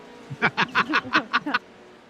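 Sound effect of a chicken played on an iRacing sim-racing stream, made up of seven quick, evenly spaced clucking squawks in a loud burst, with no talking during it.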